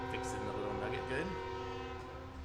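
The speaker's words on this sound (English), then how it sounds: "And here's a train going by." A train horn sounds as a train passes by, with steady tonal blasts over continuous rumbling rail noise that fades slightly toward the end. Someone talks faintly underneath.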